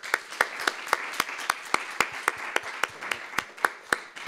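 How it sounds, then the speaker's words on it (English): A small audience applauds a conference panel with sparse, distinct claps spaced out in a loose, uneven rhythm, sounding like only a few people clapping close by. "Let's make a big round of applause."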